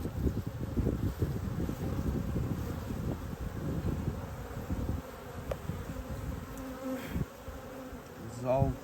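Honeybees buzz in a dense, steady drone during a beehive inspection, close to the microphone with light wind noise over it and one bee droning nearby near the end.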